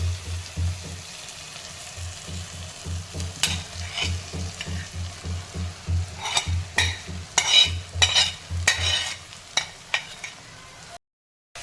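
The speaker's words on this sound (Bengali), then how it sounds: "পনিরটা এবারে মশলার সাথে ভালোভাবে মিশিয়ে নেব।" Paneer being stirred into a fried tomato spice masala in a pan: a low steady sizzle under repeated scraping strokes of a spoon, with sharper clinks and scrapes growing busier toward the end.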